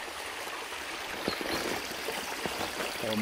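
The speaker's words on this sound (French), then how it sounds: "Le ruisseau qui est à peu près propre ici, sauf que les sorties sont multipliées" A small stream runs past several outflow pipes and gives a steady, close trickling wash, with a few soft splashes and no voices.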